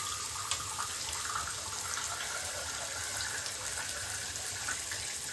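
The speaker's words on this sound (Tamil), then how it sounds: "தண்ணி வருது." Water runs steadily from a kitchen tap, a continuous hissing splash held at an even level for several seconds with no voices over it.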